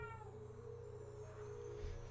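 A cat near the microphone lets out a drawn-out meow over a steady background hum, loud and close, with no talking.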